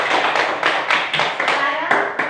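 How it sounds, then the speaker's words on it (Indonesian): Classroom applause for a student group after their presentation, a short run of clapping in uneven bursts, close and fairly loud, with children's voices mixed in. "Tepuk tangan untuk kelompok 3"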